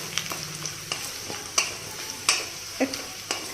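Ingredients for upma fry gently in a pan over low gas, a soft sizzle broken by sharp, spaced clinks and scrapes of a spoon against the pan, with no talking.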